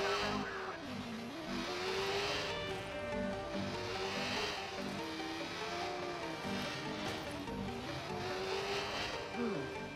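A motorcycle engine revving and droning at speed in Watch Dogs, its pitch rising and falling as the bike accelerates and shifts, steady and loud under someone talking.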